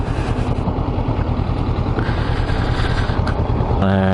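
A Honda NX500 motorcycle engine idles steadily with a constant low rumble, shifting slightly in tone near the end.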